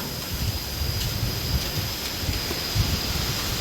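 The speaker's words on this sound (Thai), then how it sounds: "พายุมาแล้ว" Steady, dense rain hisses continuously, with low thunder rumbling softly in the background.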